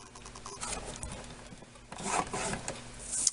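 A scoring tool drawn along a ruler across paper, producing soft, close rasping strokes in two bursts with brief pauses between them.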